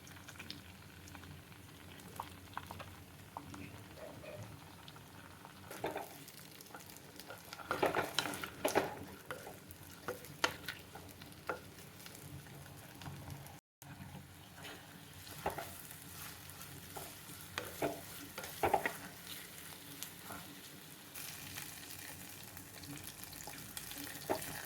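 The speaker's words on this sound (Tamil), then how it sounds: "நம்ம கட் பண்ண கத்திரிக்காயை போட்டு வதக்கி எடுத்துடலாம்." Cut eggplant sautéing in oil in a clay pot on the stove for a fried kuzhambu: a steady sizzle with bursts of stirring and scraping, alone with no talk.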